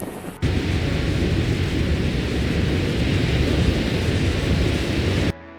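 A loud, dense roar of heavy rain and hail from a storm in a backyard starts abruptly and holds steady for several seconds before cutting off.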